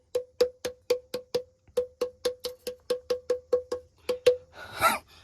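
Rapid damru-like drum knocks from stones at a Shiv temple, about fifteen sharp, ringing hits in a steady quick rhythm, close and clear, ending with a short burst of breathy noise.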